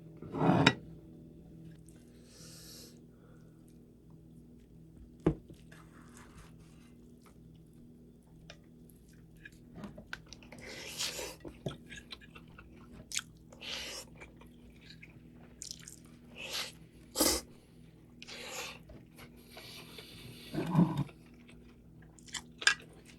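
Close-up chewing of Spam kimchi fried rice made with gochujang, topped with cheese and a fried egg and eaten with cheongyang chili, with scattered soft wet bites and crunches between quiet pauses.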